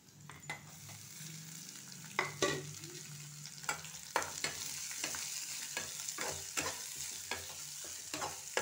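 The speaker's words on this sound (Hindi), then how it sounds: "इसमें डालेंगे प्याज" Chopped onion tossed into hot oil with browned garlic while cooking dal, sizzling steadily with repeated sharp stirring scrapes and clinks of a spoon against the pan, close and alone with no talk.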